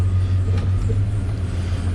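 Steady low engine hum from a 1999 Dodge Ram 1500 Sport pickup rolling in drive, recorded close with a constant idle-like drone and faint mechanical noise.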